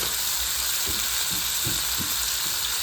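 Chicken sizzling steadily in hot oil with dry chili powder, a dense close frying hiss broken by a few soft stirring knocks, with no talk.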